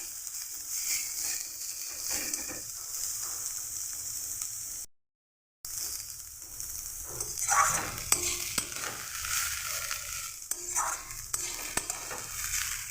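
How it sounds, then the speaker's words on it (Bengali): Cabbage being stirred and fried in a pan, a steady sizzle with intermittent scrapes and clinks of a utensil against the pan, broken by a short silent gap. "এটা আমি একটু নেড়ে চেড়ে ভেজে নেব কপিটাকে।"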